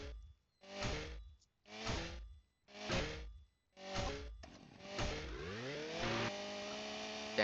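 Several short revving bursts of a chainsaw engine in the video game Ultrakill, then a longer sustained whine as the pitch climbs and holds, fairly close.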